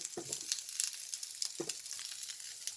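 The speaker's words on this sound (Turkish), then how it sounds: "Sucuklarımızı atıyorum arkadaşlar. Sucuklarımız şöyle bir kızarsın güzelce." Sucuk sausages sizzle on the hot plates of a toast machine, a steady bright crackle and hiss with a few soft clicks and taps of handling, fairly quiet and without talk.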